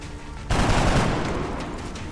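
Gunfire in the XCOM video game: a loud, sudden shot bursts in after a quiet moment and sustains a dense, rumbling burst like a volley before slowly fading.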